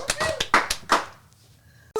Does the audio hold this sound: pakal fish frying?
no